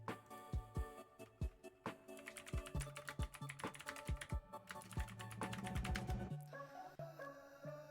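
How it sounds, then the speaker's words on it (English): Quiet, rapid fingertip taps on the side of a hot tub, irregular and clicky like typing on a keyboard, close up with no talking. "It's just me tapping on the side of the tub."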